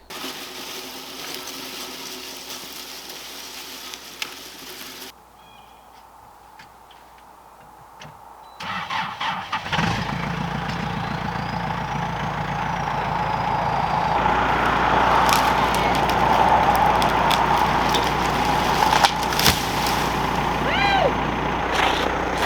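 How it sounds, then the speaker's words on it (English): A tractor engine runs steadily, pushing against a tree, its broadband rumble rising after a brief quieter stretch and building in loudness, with a faint mechanical ticking on top. "I'll just grab the tractor and give it a little shove."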